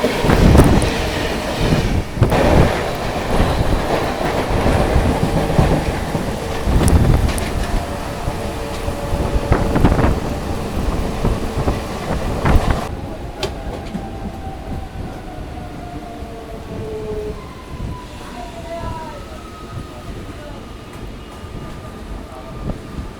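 Howrah to Bandel local train in motion, heard from inside: a loud, heavy rumble with clattering wheels that later eases into a softer run with faint rising squeals.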